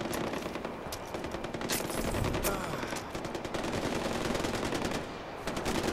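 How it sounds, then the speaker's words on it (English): Soldiers training in the Far Cry 4 video game fire weapons in sustained rapid bursts, a loud, continuous rattle of machine-gun shots with a few sharper cracks standing out. "What is this gunfire? Oh, they're training."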